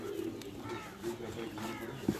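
Domestic pigeon at an Islamabad farm house giving soft, low cooing calls close by, with a brief louder coo near the end, under quiet background noise.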